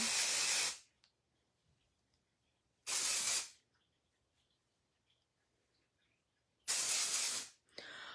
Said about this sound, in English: take this Deja Vu dry shampoo and spray it in my roots